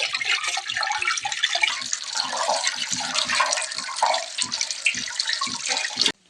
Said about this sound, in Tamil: நல்லா இப்படி தண்ணியை ஓடக்குள்ள கழுவுனா காய் சுத்தமாக இருக்கும்